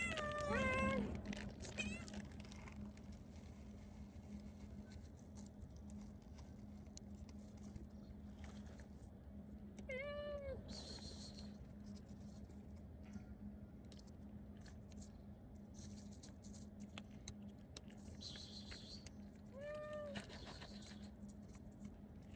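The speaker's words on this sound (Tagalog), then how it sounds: "magpapakain muna tayo ng ating mga alagang pusa" Pet cats meow at feeding time, with a few short meow calls at the start, near ten seconds and near twenty seconds over a steady low hum and faint chewing background.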